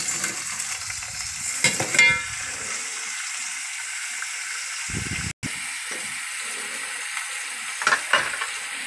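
Tomatoes sauté in a hot pan with a continuous bright sizzle, punctuated by a few louder stirring scrapes and a short cut in the middle, close and fairly loud with no talking.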